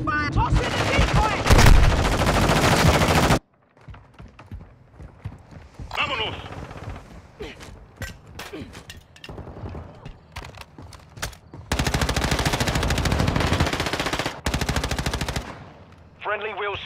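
Gunfire in Call of Duty: Modern Warfare II, long loud bursts of rapid automatic fire at the start and end with scattered single shots and lighter clatter between, plus game voices calling out.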